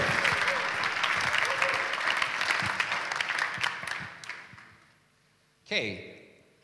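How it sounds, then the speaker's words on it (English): A conference audience at a closing session claps together in warm applause that fades out, then a voice speaks briefly after a short pause. "Please give him a very big applause."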